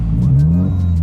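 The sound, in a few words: Subaru Impreza WRX STI engine revving rumble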